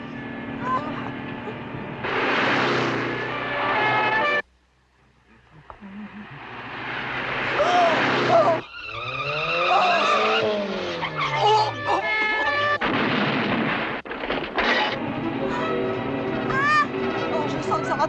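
A car skids and screeches loudly while being chased by a police car, with engine roar, a swooping siren-like wail, a brief silent gap and voices shouting over the commotion.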